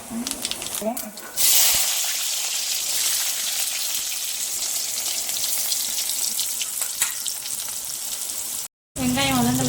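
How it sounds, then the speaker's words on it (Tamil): Fennel seeds hit hot palm oil in a pan while squid is being cooked at home, giving a loud, steady, close sizzle that fills the whole stretch, with a voice briefly heard at the start and the end. "எண்ணெய் கம்மியாக இருக்கு நம்ம கொஞ்சம் பாமாயில சேர்த்து ஊற்றிப்போம் இப்போ வந்து சோம்பு போட்டுப்போம்"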